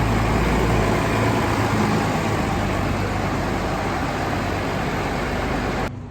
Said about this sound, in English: Cummins engine sounds nice and smooth.